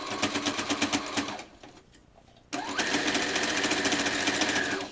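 A sewing machine stitches through thick T-shirt quilt layers in a fast, loud, rhythmic run, pauses briefly into near quiet, then starts again at a steady high-speed whir.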